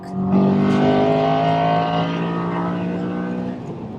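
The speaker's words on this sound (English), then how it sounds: "I hope the microphone's picking that VTEC up because it sounds mega." A Honda Accord Euro R CL7's K20A VTEC engine revs hard and high, a close, sustained harmonic wail that holds for a few seconds and then slowly settles.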